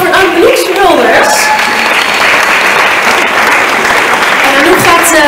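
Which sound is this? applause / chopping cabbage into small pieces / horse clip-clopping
applause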